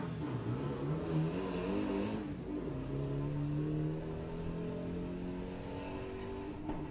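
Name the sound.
VW Beetle drag race car launching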